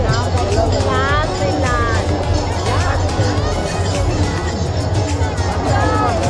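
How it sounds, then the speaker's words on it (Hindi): A dense crowd packs Konhara Ghat in Hajipur during Kartik Purnima. Continuous loud babble of many voices fills the scene, with a steady low rumble and occasional vehicle or boat noise underneath. "आप लोग देखिए बहुत ज़्यादा भीड़ है यहाँ पे"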